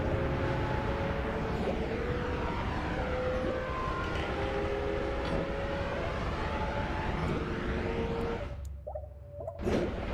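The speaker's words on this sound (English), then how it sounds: "It does sound like a jet at some point." A loud, continuous jet-like roar from flowing water physics in the video game Noita, sustained with sweeping tonal layers before cutting out abruptly near the end.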